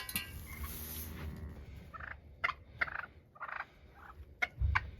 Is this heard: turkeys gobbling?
yes